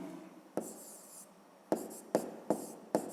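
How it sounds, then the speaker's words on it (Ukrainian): Pen writing by hand on paper, a soft continuous scratching close by, punctuated by several sharp taps as strokes start or the pen lifts, with no talk. "Пишемо."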